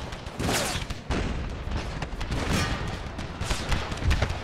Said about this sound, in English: So all these guns have pretty much been firing at will for the last set of time.